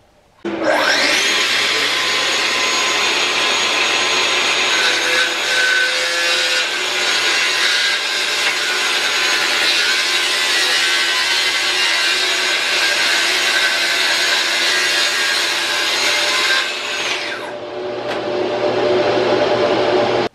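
A track saw slices steadily through a wooden panel for a desktop for over fifteen seconds, a loud continuous whine and rasp that stops abruptly, leaving a quieter motor hum.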